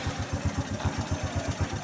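A motorcycle engine fitted with a finger-touch sensor safety device runs steadily right after being started with the electric starter, giving a close, even idle with about a dozen regular low throbs and no talking.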